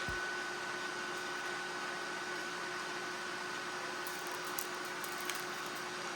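Noisy air conditioner running indoors, a steady even hum and broadband whoosh with faint tonal whines, unchanging and alone throughout.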